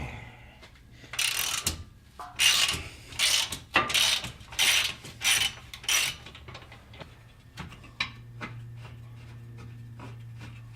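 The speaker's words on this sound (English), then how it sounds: "I think my ratchet keeps hitting the muffler, and I think it's switching which direction it's going." Ratchet wrench clicking as it works a bolt on a Smittybilt rear bumper of a Jeep Wrangler JL, striking the muffler, in a run of close, loud bursts of rapid ratcheting, then quieter clicks over a low hum.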